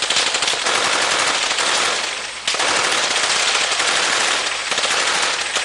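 Sustained machine gun fire in Fallujah, Iraq, a loud, dense rattle of rapid shots that runs almost without a break, with one brief lull near the middle.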